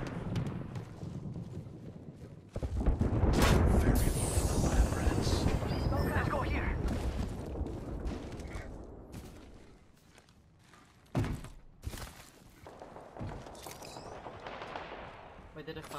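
An artillery strike fires in the Apex Legends video game, a loud sustained barrage of rumbling blasts that gradually fades, with a sharp crack near the end and scattered game noises throughout.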